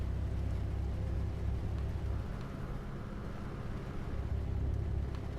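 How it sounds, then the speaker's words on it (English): Truck tires run over a highway rumble strip, producing a steady low droning rumble with a coarse, grinding texture that persists for several seconds inside the cab at moderate, even loudness. "I gotta stop running through that rumble strip."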